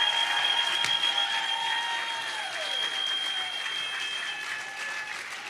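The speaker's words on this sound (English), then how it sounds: "Let's give them another round of applause." An audience gives a sustained round of applause at a live political rally, with steady dense clapping throughout, a faint cheer near the start and a slow fade toward the end.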